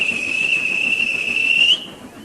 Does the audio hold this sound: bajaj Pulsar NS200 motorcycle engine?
no